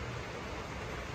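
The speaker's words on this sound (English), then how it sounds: "Sorry about the noise in the background, it's the rain beating down quite hard." Heavy rain beats down hard in the background, a dense, constant hiss with no breaks, faint and fairly distant.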